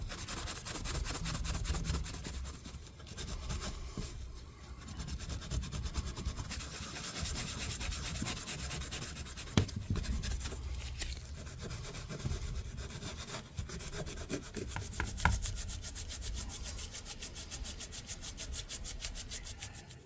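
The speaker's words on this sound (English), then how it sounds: "Let's get the main stuff off, just using some Scotch-Brite." Steady abrasive rubbing of a Scotch-Brite pad scouring rust off a rinsed metal part, a continuous close scratchy back-and-forth scrub lasting throughout with a few sharper knocks along the way, no voices.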